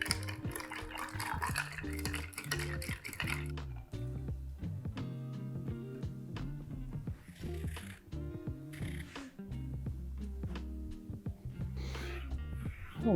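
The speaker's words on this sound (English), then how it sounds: "Give it a stir." A tequila and yellow Chartreuse cocktail is stirred over ice, with a spoon clinking and rattling against the cubes and glass in a continuous close swirl. A louder clatter opens the stir.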